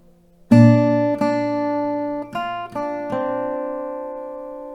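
An acoustic guitar plucks the G part of a song as about five single ringing notes, close and clear, each one sustaining and fading, with no talk.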